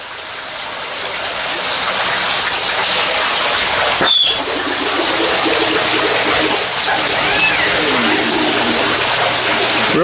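Small decorative fountain running in a haunted tent's blacklight room, filled with fluorescent water, giving a steady close trickle and splash of falling water that continues without break and without voices.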